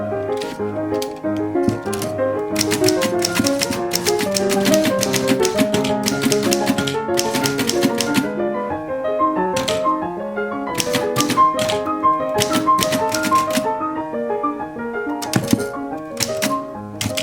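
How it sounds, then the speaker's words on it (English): Keys clack rapidly on a vintage Corona typewriter in continuous bursts, with the occasional ding and carriage return, close and crisp throughout. "This is my vintage Corona typewriter."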